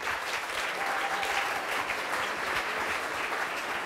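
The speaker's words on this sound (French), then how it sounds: "On peut l'applaudir." Audience applause at a live startup pitch evening, a steady dense patter of many hands clapping at moderate volume throughout, with no talk over it.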